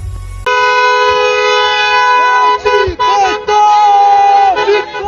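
Sustained car horns honking at a boisterous Congolese diaspora welcome gathering in Brussels, a loud blaring chord of several horns holding steady with brief dips and overlapping crowd voices.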